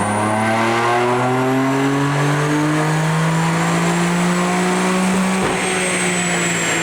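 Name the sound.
BMW F82 M4 engine on dyno run with JB4 Map 1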